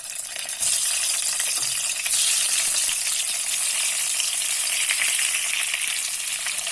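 Stuffed bitter gourd drops into hot oil and sizzles loudly, a dense, steady crackle that swells after the first moment and carries on without talk.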